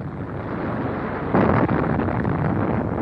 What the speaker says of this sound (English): There goes the underwater blast.